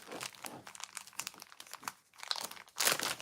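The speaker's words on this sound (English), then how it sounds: "let's open this first bag." A plastic mail bag is torn open and handled near the mic, with crinkling and crunching that ends in a louder burst of rustling.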